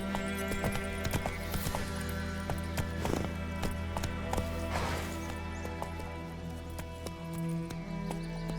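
The horse Roach trotting in The Witcher 3 video game, a steady clip-clop of hooves at moderate volume over low ambient hum, with no talking.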